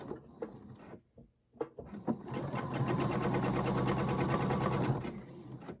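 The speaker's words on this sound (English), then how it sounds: "on my machine, it takes 1 stitch back when it ties off, so I am going to take a stitch forward first" A home sewing machine stitching a quilt block, starting with a few short bursts and then running steadily in a loud, close, continuous whir for several seconds before stopping.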